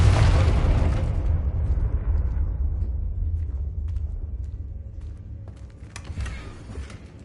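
A Confringo fire spell explodes in the Hogwarts Legacy video game, a loud booming blast that rumbles and fades over several seconds, with a smaller pop near the end.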